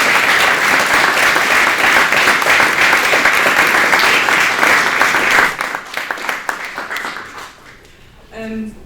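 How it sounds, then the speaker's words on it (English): Conference audience applause fills a hall with dense, loud clapping for several seconds, then thins out and fades, with a few voices audible near the end. "Can we give Florence a round of applause for a fantastic work?"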